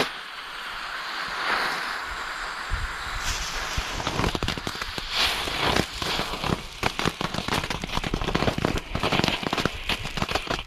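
Firecrackers burst over a container of orange juice outdoors, a long run of sharp crackling pops and bangs in dense, irregular bursts, loud and close, with a hissing fuse-like crackle at the start.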